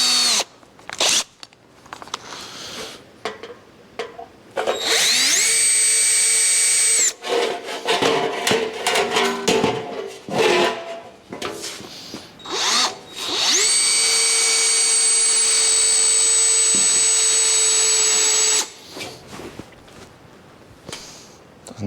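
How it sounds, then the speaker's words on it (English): Electric drill boring into a metal sissy bar for a 1981 Harley-Davidson XLH chopper, two long loud sustained whining runs separated by clattering handling noises and brief bursts, close up. "Probably helps to chuck your drill in."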